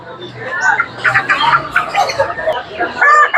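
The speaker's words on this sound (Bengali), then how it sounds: "এই ছিল মুরগি না?" Chickens cluck and squawk in bursts at a crowded poultry market, with people talking close by over the birds.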